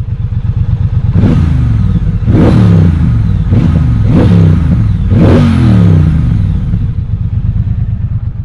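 A 2021 Triumph Bonneville Speedmaster engine idles with a deep, throbbing burble, then is blipped five times in quick succession, each rev swelling loud and falling back to idle, close by with no talking.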